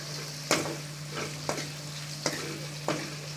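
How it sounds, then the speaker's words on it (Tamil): Asafoetida powder sautéing in oil for a garlic curry, a soft sizzle punctuated by four sharp ladle scrapes at a slow, even pace, with a faint steady hum beneath. "போட்டோடனே பெருங்காய பொடி வாசனைக்கு நல்லா தான் வதங்குவோம்"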